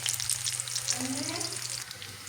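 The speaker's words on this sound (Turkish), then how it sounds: "Yumurta pişiriyorum" Sliced sucuk sausage and eggs crackle and sizzle in a hot pan, a steady close frying hiss with popping spatters and a faint hum beneath.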